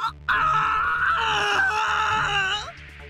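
A male character in the DRAMAtical Murder game lets out a long, loud, anguished scream, sustained for about two and a half seconds over quiet background music before cutting off.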